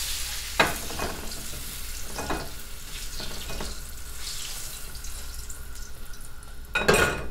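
Eggplant and tofu sizzle steadily in hot oil, with a few sharp clanks of a utensil against the pan and nobody speaking.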